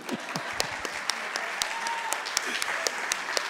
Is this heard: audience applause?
yes